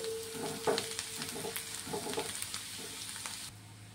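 Soaked poha and salt are stirred in a sizzling pan, with faint crackling and spoon scrapes over a gentle frying hiss, quiet and close, with no voices.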